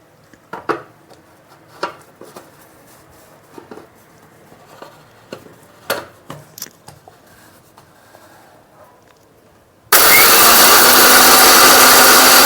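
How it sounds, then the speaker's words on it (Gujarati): A mixer grinder crushes Bhavnagari ganthiya, moong dal and mixed chavanu for dry kachori filling. Scattered clinks and handling noises come first, then a loud, steady whirring roar takes over for the final seconds. "હવે આપણે આને મિક્સરમાં ક્રશ કરી નાખીએ"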